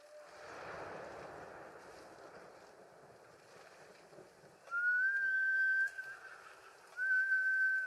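A horse whinnies twice in high, drawn-out calls in Ghost of Tsushima, over a soft rushing background, with a quieter wash of noise before the first call.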